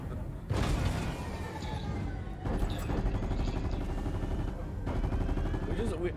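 Rapid, sustained gunfire from the Fortnite video game chatters loudly in long bursts while shooting at a rocket, separated by brief pauses, with mechanical game sounds mixed in.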